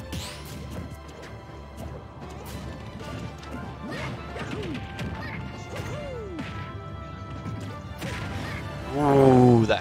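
Inkling's forward smash lands in Super Smash Bros. during a competitive Inkling versus Mario match, with several sharp smacking hits over a busy game background.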